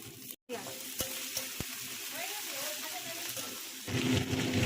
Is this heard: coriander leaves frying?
yes